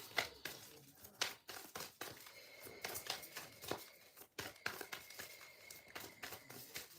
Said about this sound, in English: I'm going to get to shuffling this deck here